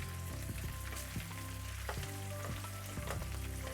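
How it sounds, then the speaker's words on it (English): Ground pork fries in a pan for a cumin and scallion stir-fry, a dense steady sizzle broken by repeated scraping and stirring knocks from a utensil, with no talking. "It's all frying away really, really nicely."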